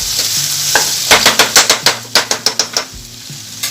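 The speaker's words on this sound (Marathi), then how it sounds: "आता याच्यामध्ये पास्ता मिक्स करूया." Pasta being stirred into a hot pan, a quick run of about a dozen rhythmic scraping clacks from a spatula against the pan over a sizzling hiss, close and loud, with no talking.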